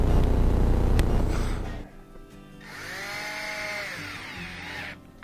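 A power tool drives screws back into a Whirlpool washer during a moldy door boot repair. It whirs steadily with a rising pitch, stops briefly, then runs a second time, close by and fairly loud.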